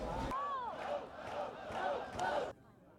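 A crowd of hundreds gathered at a vigil, with raised voices chanting or singing together over loudspeakers, moderately distant and sustained for a few seconds before cutting off.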